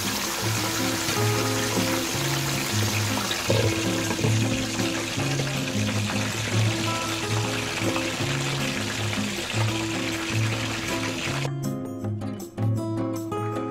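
Chicken pieces deep-frying while fully submerged in hot cooking oil, giving a steady, dense sizzle and bubbling that runs throughout at close range, with a brief drop near the end.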